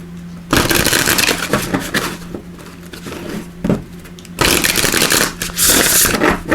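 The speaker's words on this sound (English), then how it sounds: "let's give these a quick shuffle." Oracle cards being shuffled by hand in two long bursts of dense riffling and rustling, separated by a brief quieter pause, close and fairly loud with no talking.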